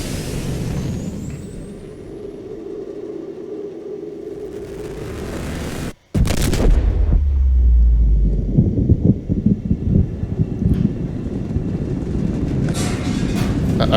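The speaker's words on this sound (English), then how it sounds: "we're just immediately, oh god, ship is exploding" Subnautica spaceship exploding as its crew abandons ship: a roaring, rumbling blast texture that cuts out abruptly, then returns louder with a heavy low boom and crackling debris, sustained and close throughout.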